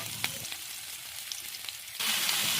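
Thin slices of buffalo meat sautéing for Ilocano pinapaitan, a steady loud sizzle with a few sharp crackles and pops that swells louder near the end as the pan heats up.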